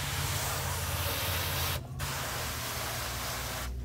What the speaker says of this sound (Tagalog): Kahit bigitan ko lang ng spray okay lang kasi malambot naman